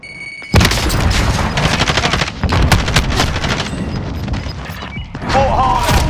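A grenade blast in Call of Duty Warzone hits loud and close, followed by sustained bursts of rapid gunfire and heavy booms, with a brief voice near the end.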